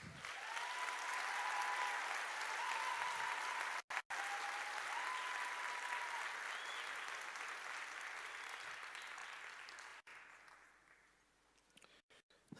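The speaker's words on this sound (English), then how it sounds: "Let us just give them another round of applause." Graduation ceremony audience at Stellenbosch University applauding departing musicians after the national anthem, a steady, dense wash of clapping from a large hall crowd that slowly fades out near the end.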